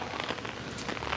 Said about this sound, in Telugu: వర్షం వస్తుంది కాబట్టి ఇంకా పోలేను ఇప్పుడు.